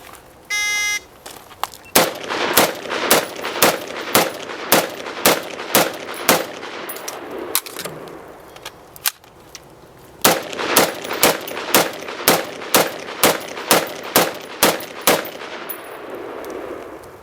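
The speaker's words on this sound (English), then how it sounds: "Now she'll shoot the same target array with 2 magazines." Rapid semi-automatic gunfire as a shooter works through a target array with two 10-round magazines: a loud, steady string of sharp shots, a brief pause for the magazine change partway, then another even run of shots.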